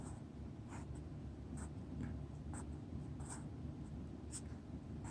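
Handwriting on paper, written part by part in separate strokes: soft, faint scratches in short irregular bursts over quiet background hiss.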